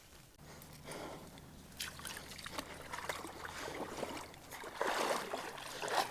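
Faint water trickles and splashes over a low steady hum, with soft rustling movement growing slightly louder toward the end.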